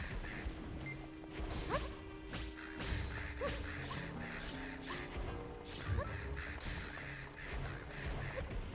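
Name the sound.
crows cawing in video game Zelda Echoes of Wisdom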